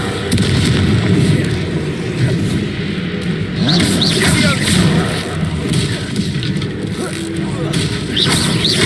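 Confringo fire-blast spell in the wizarding video game Hogwarts Legacy, a loud burst within continuous combat din of rumbling booms and magical clashes, with character voices calling out over the fight.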